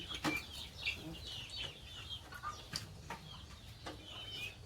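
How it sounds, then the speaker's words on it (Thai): A hen clucks repeatedly in short, steady bursts with faint farmyard chirps around, fairly close and moderately loud, no talking. "มีตัวใหญ่แม่ไก่นะ"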